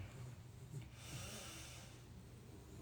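Slow breathing during a breathwork exercise, a close, steady airy rush through the nose with a soft snort-like catch, heard alone with no talking.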